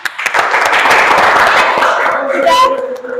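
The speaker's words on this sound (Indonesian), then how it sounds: "Tepuk tangan." Students in a classroom clapping together, a brief dense round of applause that tapers off as a voice begins speaking.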